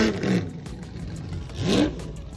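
A 1952 Ferrari 340 Spider America engine revs twice, each a rising, roaring burst, with a quieter stretch between the pulls.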